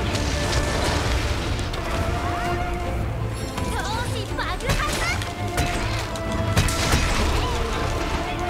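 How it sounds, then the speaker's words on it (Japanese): Explosions and crashing impacts during a monster hunt in Monster Hunter Rise, booming under dense game effects and music, with a player talking over the action throughout. "爆発してたけども。"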